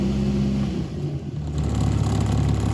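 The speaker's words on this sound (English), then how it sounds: "Let's see if we just rev her just a tad what happens." A VW Mk1/Mk2 engine, just fitted with a replacement alternator, is revved a little, a steady close engine drone that rises slightly in the last second.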